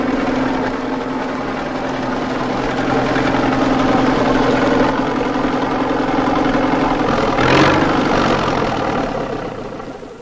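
Tractor engine runs steadily in a 1959 comedy musical film, a loud continuous droning idle with a low hum and vibration, swelling briefly near the end.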